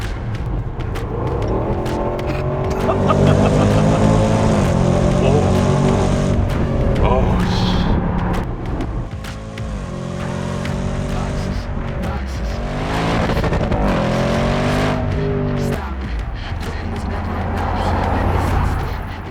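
A Range Rover Sport SVR with a 575-horsepower 5.0-litre supercharged V8 drives hard. Its loud engine note repeatedly climbs and falls through several gear pulls, with a rasping, whining edge under the roar.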